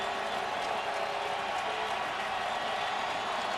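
Steady crowd roar at a 2012 ALDS Game 5 baseball game between the A's and Tigers, fifth inning with two outs, a dense continuous murmur of many voices filling the whole stretch at even level.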